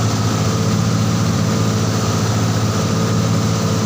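A motorboat engine drones steadily at sea with a low, throbbing rumble, loud and continuous throughout.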